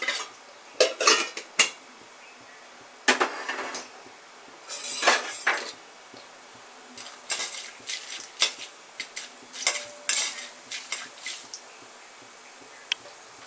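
Urad dal and chana dal are tipped into a metal pan and stirred for a festival prasadam. A ladle clinks and scrapes against the pan in uneven bursts, with quiet gaps between them.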